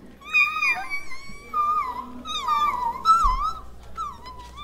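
A person's voice imitates the whimper of the cartoon pony Fluttershy, a string of high, wavering whines and squeaky sobs delivered close and clear with no other talk.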